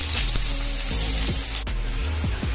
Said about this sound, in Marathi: ह्या तेलामध्ये लगेच आपण हे कापलेले कांदे जे आहेत ना ते टाकून घ्यायचे.